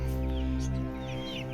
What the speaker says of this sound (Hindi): अभी उधर भी थोड़ी सी और मुर्गियां हैं, वो आप देख सकते हैं।